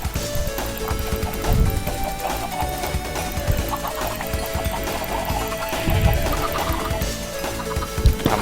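Chickens clucking on an automatic chicken farm in Minecraft: dense overlapping clucks and squawks continue throughout, loud and close, with game clatter mixed in.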